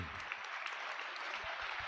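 An audience at a Telugu Christian testimony gathering claps, a soft, steady patter of applause throughout, heard at a distance.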